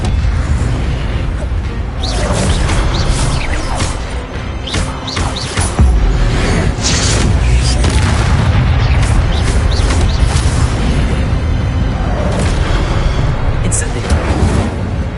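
Expelliarmus disarming spell cast in a Harry Potter video game, heard as loud booming bursts and crackling pops over a dense, continuous background of game effects and music, with a voice speaking intermittently.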